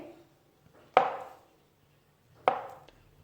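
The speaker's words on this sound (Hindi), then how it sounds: "एक कटिंग बोर्ड में 3 केले, दरमियाने साइज़ के केले, इनको मुनासिब उसमें काट लेंगे, ना बहुत पतले ना बहुत मोटे" Medium-sized bananas are cut on a cutting board with a knife, two sharp, close chops about a second and a half apart that thud on the board, with quiet pauses between and no talking.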